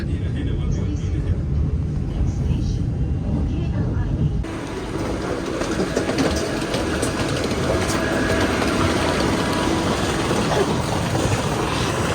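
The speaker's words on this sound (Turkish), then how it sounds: "Çok rahat, konforlu bir trenle gidiyoruz." Steady rumble and rattle of an airport train in motion in Malaysia, loud and continuous throughout, growing brighter and noisier partway through.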